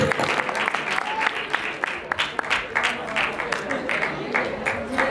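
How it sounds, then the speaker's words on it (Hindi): Audience applause at a film festival event greeting a named guest, a steady wash of clapping with some crowd murmur and voices mixed in throughout. "अब्दुल सुभान के लिए जोरदार तालियां।"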